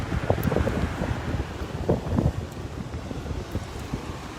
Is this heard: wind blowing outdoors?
yes